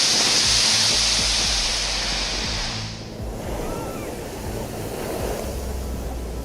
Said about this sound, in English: Extremely tremendous but mesmerizing monster waves have been seen in Spain.